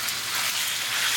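Beef frying in olive oil in a kadahi or frying pan over a high gas flame, a steady close broadband sizzle with no pauses or voices.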